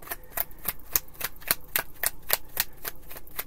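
Tarot cards being free shuffled by hand, giving a rapid run of crisp, evenly spaced papery snaps and riffles, close and fairly quiet, with no voices.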